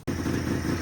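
Old snowmobile engine left sitting for about two decades, idling with a steady low throbbing rumble after a brief dropout at the very start.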